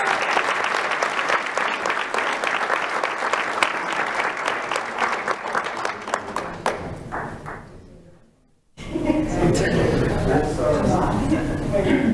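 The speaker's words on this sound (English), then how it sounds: "Please give her one more hand of applause" Audience applause at a Lee County School District board meeting fills the room steadily for about eight seconds, fades into a brief near-silence, then gives way to a voice speaking at the lectern.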